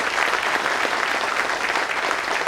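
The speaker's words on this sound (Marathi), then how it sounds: "तुम्ही छान टाळ्या वाजवल्या" Applause from an audience thanking Navi Mumbai municipal staff for building a memorial at a 2022 public lecture, steady dense clapping from a large crowd filling the whole stretch without a break.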